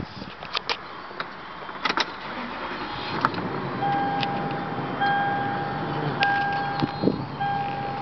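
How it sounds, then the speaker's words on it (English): A Toyota Sequoia SUV idles after starting at a dealership lot, a low steady engine rumble carrying on through the clip with a few clicks, thumps and faint electronic chime tones over it, and no talk. "Let's just crank it up here and see how it, how it sounds."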